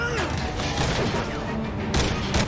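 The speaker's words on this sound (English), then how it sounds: "I just got shot by like 400 rifles." Rifle gunfire in the Dead Rising 2: Off the Record video game: a dense, continuous barrage of shots with several louder bursts near the end, heard close and loud over a busy game mix.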